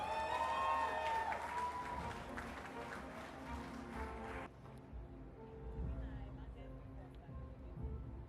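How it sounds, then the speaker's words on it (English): An awards-ceremony audience claps for a winner, with dense applause that is loudest at first and then thins abruptly partway through into softer, scattered clapping with background murmur. "one more time, a round of applause for Tunde Onokoya"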